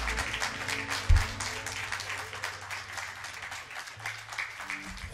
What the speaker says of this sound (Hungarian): Hatalmas taps Imrének